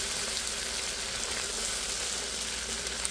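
Onion, ginger and garlic frying in a pan for pulao, giving a steady, continuous sizzle throughout with no pauses, close and moderately loud, with no talk over it.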